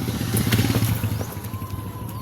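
A motorcycle engine rumbles close by, a steady low growl that holds for a couple of seconds and eases off slightly toward the end.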